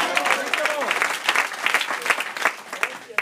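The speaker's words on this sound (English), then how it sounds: "Clap your hands right there and tell him thank you." A church congregation claps their hands during a sermon, a dense burst of applause with voices calling out and cheering among the clapping.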